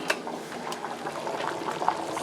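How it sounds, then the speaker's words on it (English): A pot of rice boils on a stove, a continuous bubbling and gurgling with small popping bursts, steady and fairly close, without any voices. "Okay, so our rice is boiling."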